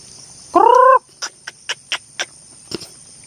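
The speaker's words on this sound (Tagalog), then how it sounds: "kaya siguro guys dumami dito yung labuyo gawa ng may mga manok dito saka yung tilaok ng manok dito" A single harmonic rooster crow, then a series of short clucking chicken calls spaced irregularly, fairly close, over a faint constant high hiss.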